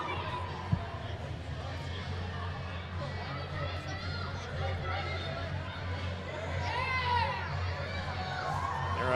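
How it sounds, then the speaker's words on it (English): Crowd of youngsters at a college ice hockey game between CSUN and SDSU, a steady murmur of children's chatter and shouts in a large rink, heard under a commentator's talk. "There are a bunch of youngsters here as well, so a great crowd on hand"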